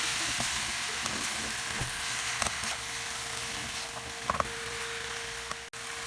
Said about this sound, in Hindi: और अब हम इसमें चिकन ऐड करेंगे। और इसे थोड़ी देर और फ्राई करेंगे।